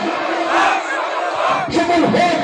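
A large crowd at an Islamic mahfil gathering roars a loud chanted response to the Naraye Takbir call, two surging bursts of many voices close together.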